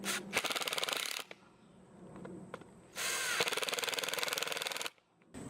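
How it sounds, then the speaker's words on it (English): Short screws are driven into a wooden pallet garden with a power drill, two loud sustained bursts of whirring separated by quieter handling noise. "I'm using short screws here so that they don't pierce the back."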